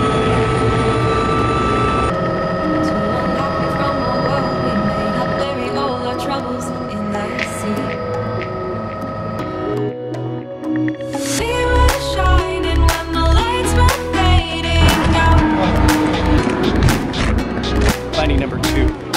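Helicopter in flight near Squamish, a steady loud engine and rotor drone filling the whole stretch, with a pulsing rotor beat growing stronger in the second half and no clear speech.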